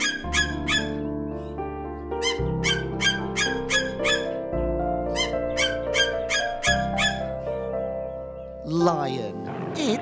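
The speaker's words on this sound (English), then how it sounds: "It's an eagle." An eagle gives shrill, piercing calls in repeated clusters over background music, loud and close, with a rougher squawk near the end.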